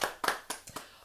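Scattered hand claps from a small podcast studio audience greeting a guest, five distinct claps spaced unevenly, close and fairly crisp, with no talking over them.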